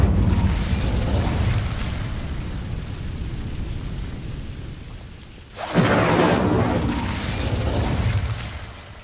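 A fire spell explosion in Hogwarts Legacy hits with a sudden deep boom partway through, rising out of a steady rumbling wash and then rolling on as a heavy, roaring burst.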